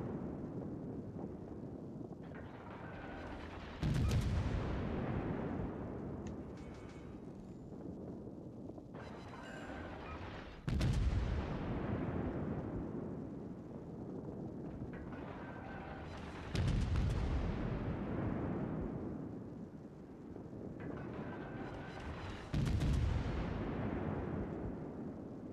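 Heavy warship main-battery salvos in World of Warships, fired at shore forts, boom out as four loud, widely spaced volleys, each rumbling and slowly fading over several seconds against steady wind-like background noise.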